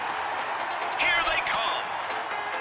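A baseball stadium crowd cheers loudly during a mascot race, a dense roar of voices with a swell of shouts and whistles partway through, continuous and loud throughout.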